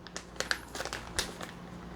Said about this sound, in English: I'm just going to zip the edge of the scissors along and get the second side opened up.